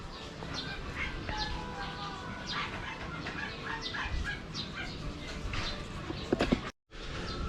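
Rhode Island chickens cluck and chatter in a yard, faint scattered bird calls over steady outdoor background, with people talking nearby and a brief dropout near the end.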